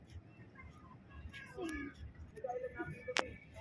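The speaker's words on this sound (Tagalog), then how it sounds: "Ay, ito po, yung pusa." A cat meows in a flooded Metro Manila neighbourhood, a couple of short, rising cries separated by a pause, fairly near over steady low background noise, with a person talking at moments.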